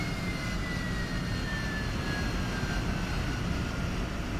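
Loud, steady aircraft engine roar with a slowly falling whine during a landing approach at about 190 in a combat flight simulator game, continuous and with no talk.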